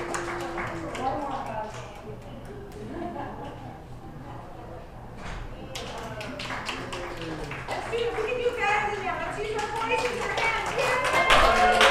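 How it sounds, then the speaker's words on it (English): An audience at a comedy show claps and cheers to welcome a comedian on stage, the scattered applause building louder over several seconds with voices mixed in. "Please put your hands together and let's welcome Perry Kurtz to our community."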